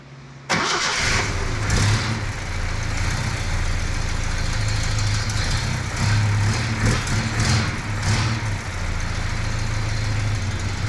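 A 1971 Datsun 521 pickup engine cranks and catches after a brief silence, then settles into a loud, steady idle with a slightly uneven, knocking mid-range rumble that runs close-up and alone for the rest of the clip.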